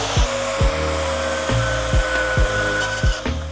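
An Evolution saw with an old blade cutting through the steel shank of a 7/8 bolt: a continuous loud grinding whine, close by, with regular rhythmic thumps about every 0.6 seconds.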